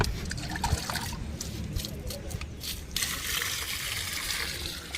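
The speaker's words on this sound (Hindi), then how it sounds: "पानी दे, पानी जग से" Water tipped from a jug onto a newly planted sapling at an outdoor tree-planting event at a Home Guards campus, a short splashing gush with trickles amid background crowd noise.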